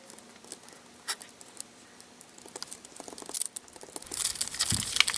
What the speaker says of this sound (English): And then I'll peel off both of those layers.